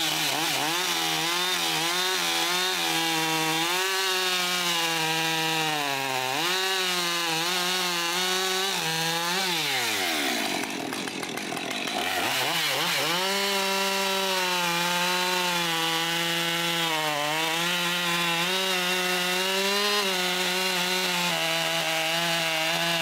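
A Husqvarna chainsaw cuts through firewood, a loud, continuous whining buzz that bogs and rises in pitch as the chain bites, with a brief drop mid-cut before it resumes at full revs.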